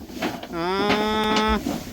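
A single cow moos in a barn, one loud, close, sustained call lasting about a second, with faint background noise around it.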